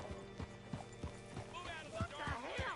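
Horse hooves clip-clop in a steady walking rhythm in the Red Dead Redemption 2 video game, fairly quiet, with a voice speaking over the later hoofbeats.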